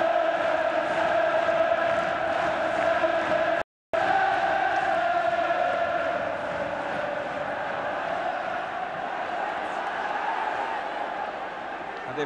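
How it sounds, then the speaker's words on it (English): Football crowd at Everton v Bayern Munich roaring continuously, a huge massed chant and bellow from the stands that holds for the whole stretch apart from one brief cut. "if crowd participation is worth a goal to the home side, it will surely be on this occasion. Everton being roared forward"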